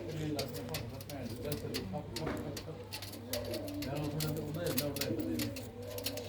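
Flock pigeons in fresh new plumage coo together inside a Punjabi loft, a layered, continuous low warbling with scattered clicks and rustles of wings and feet, fairly close but soft in level.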